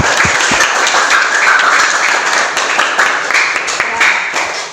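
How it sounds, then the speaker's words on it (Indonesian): Children clapping together in a classroom, a dense, loud burst of applause with sharp hand slaps that holds steady throughout. "beri tepuk tangan dulu anak-anak untuk komentar dari Nita"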